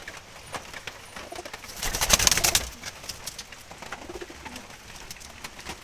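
Brown wild Jalali pigeons coo softly nearby, the low calls running throughout, with a louder rush of noise in the middle of the stretch.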